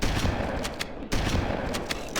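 Rocket explosions and gunfire from the video game Halo: Combat Evolved crackle in a dense, continuous barrage of sharp bursts. A brief dip comes halfway through, and no voices are heard.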